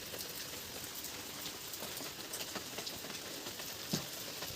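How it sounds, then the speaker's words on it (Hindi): Steady, continuous rain that has been falling since morning at a village home, a dense, even hiss of drops with scattered sharper patters, moderately loud and unbroken, with no voices. "मॉर्निंग से कंटिन्यू बारिश लगी हुई है और अभी तक बंद नहीं हुई।"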